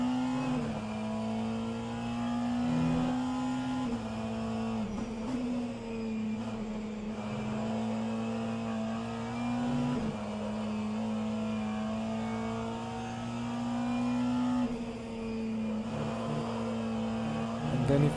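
A pack of LMP2 prototype race cars in rFactor2 at a virtual 24-hour endurance race, engines droning steadily together with a strong tonal whine that dips and rises as they shift, fairly quiet and continuous.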